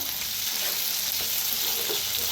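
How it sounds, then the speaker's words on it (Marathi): Crushed peanuts are stirred into spiced potatoes in a pan, with a steady, loud sizzle and frying hiss running the whole time and faint scraping from the stirring. "शेंगदाण्याचा कूट टाकूया, मिक्स करून घेऊया।"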